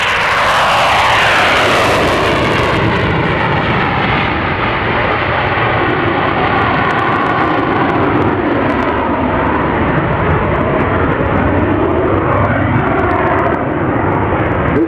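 A jet aircraft makes a loud, close flyby at the 2016 Farnborough airshow, its roaring engine sliding downward in pitch as it passes and fading out over about fifteen seconds.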